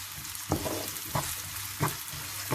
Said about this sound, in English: So I'm going to keep frying this until it's completely done.